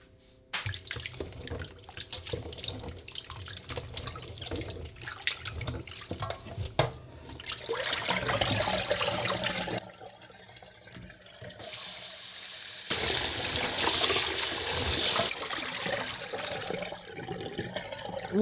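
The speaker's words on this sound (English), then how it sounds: "Change the water and repeat the process all over again." Chicken feet are washed under running tap water in a sink, a steady gushing stream that shifts in pitch and loudness as the flow is changed and the water is swapped, with no talking.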